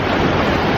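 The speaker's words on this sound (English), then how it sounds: "I'll just watch the waves for a second and we'll see what the waves are doing." Ocean waves break on rocks at sunrise, heard as a loud, continuous broadband roar of surf and wind rush with no distinct breaks.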